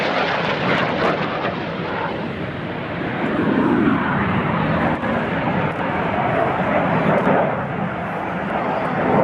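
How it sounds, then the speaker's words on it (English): Red Arrows jets flying the Cyclone to Slingshot manoeuvre at the 2009 Perth Airshow: a continuous loud roar of jet engines that swells and fades gently as the aircraft pass overhead. "they're now flying a manoeuvre called the Cyclone to Slingshot"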